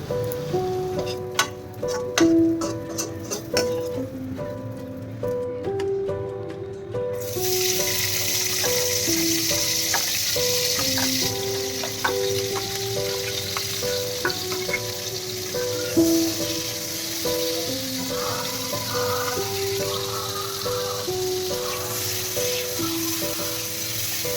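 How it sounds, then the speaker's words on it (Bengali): Chopped capsicum frying in a pan in a home kitchen, a steady bright sizzle that jumps louder partway through and holds evenly, with occasional clinks from a spatula and faint background music-like tones. "এবার ক্যাপসিকামগুলোকে ভেজে নিতে হবে"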